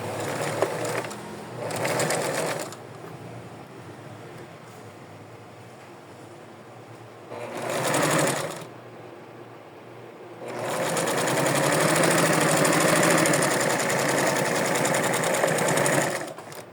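A sewing machine stitches bias binding onto small doll clothes in bursts. There are two short runs of whirring near the start, another brief run around the middle, then a long steady stretch, all close and loud with quiet gaps between.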